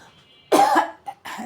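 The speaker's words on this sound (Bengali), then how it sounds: "আমার হঠাৎ হঠাৎ গলা বসে যায় দেখা যায় কাশি আসে" A person coughs twice in quick succession, one harsh burst followed by a shorter, throatier one, close and loud against a quiet background.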